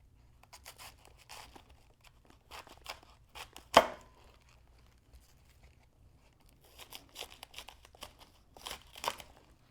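A knife cuts the thick core out of a cabbage with soft, crisp crunches and slicing scrapes in scattered bursts. One sharp, louder chop or thud sounds near the middle, and the whole is quiet and close with no voice.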